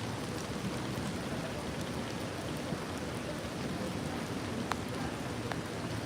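Rain falling steadily in an even, constant hiss with faint scattered drips, continuous and moderately loud with no other sounds.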